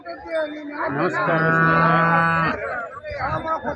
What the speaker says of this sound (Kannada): ಇವತ್ತು ನಾವು ಬಂದಿರೋದು ಗದಗ ಹಸುಗಳ ಪೇಟೆಗೆ